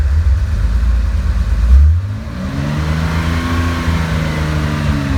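A classic Targa car engine with a hand throttle cranks briefly, catches and settles into a steady idle with rising and falling harmonics, loud and close, with no talking.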